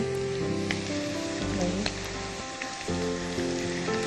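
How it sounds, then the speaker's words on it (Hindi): Chopped garlic frying and browning in a hot pan gives a steady, close sizzle that runs through the whole stretch, with faint tonal sounds in the background. "थोड़ा सा लहसुन डालकर इसको भी ब्राउन करेंगे"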